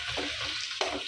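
Chicken roasted with turmeric fries in oil in a pan while being stirred. It makes a short, close sizzle with scraping stir strokes.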